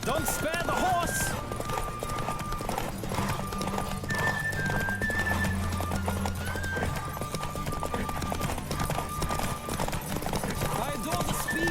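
A horse gallops hard in The Witcher 3, fast clip-clopping hooves running continuously and loud, with neighing, game music and voices mixed in.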